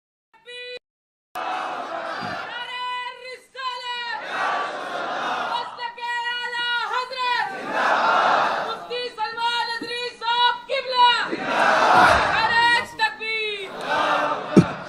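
A large crowd at an Urdu religious sermon chants devotional slogans in loud, rhythmic call-and-response bursts, voices swelling in unison between short pauses, close and energetic throughout.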